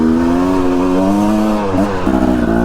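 A dirt bike spins its rear wheel climbing a steep, dry, loose Idaho trail through burned forest, its engine revving hard and close in a strained, steady tone that dips and shifts near the end.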